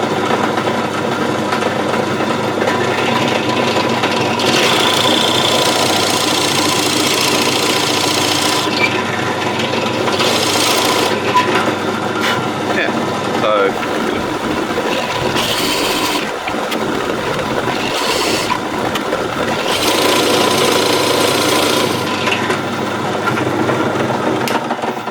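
Forstner bit drilling into wood for a toy car, a loud sustained machine whine with rasping cutting bursts that come and go as the bit bites, close and without talk.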